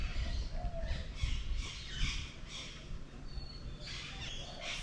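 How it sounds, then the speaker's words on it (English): Birds squawking outdoors at a hotel in Guanacaste, Costa Rica, with repeated harsh calls over a steady background of ambient noise, moderately distant. "And I love all the birds squawking and stuff."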